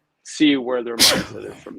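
A single sharp sneeze bursts out close and loud right after a man's speech in a casual talk setting, with talking continuing around it.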